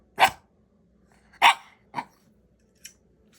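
A dog barks three times in short, separate bursts with gaps between, followed by a faint fourth yip; close and fairly loud, no talking.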